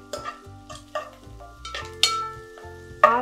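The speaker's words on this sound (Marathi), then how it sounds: "5 मिनटां भाजल्यार पुरो कांदो." Chopped onion frying in a pan with dry chillies for a Goan pork bone meat dish, with several sharp stirring scrapes and clanks of a spoon over a steady low sizzle, close up.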